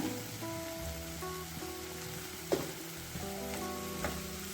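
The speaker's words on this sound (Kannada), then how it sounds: "ಚೆನ್ನಾಗಿ ಫ್ರೈ ಮಾಡೋಣ." Spring onion greens fry in a pan with moong dal, coconut, turmeric and salt, giving a steady, even sizzle with a couple of faint stirring knocks and a soft background hum.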